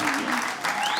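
Comedy club crowd in Seattle claps and cheers briefly, a loud burst of applause with voices mixed in over about a second.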